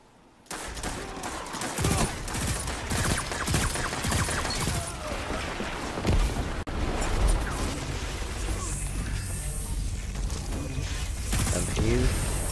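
Rocket launcher blasts in Destiny 2 mix with heavy, continuous gunfire and mechanical clatter, a loud, dense barrage lasting the whole stretch.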